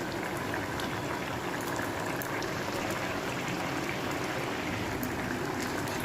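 Mixed dal lentils boil in a pot on the stove, giving a faint, steady, continuous bubbling and simmering with no talk throughout.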